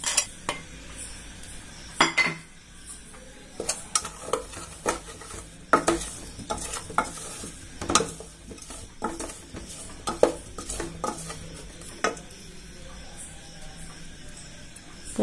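A spoon stirs instant gooseberry (amla) pickle with tamarind water in a pan, giving repeated scraping and clinking knocks against the metal in an irregular rhythm over a soft background sizzle.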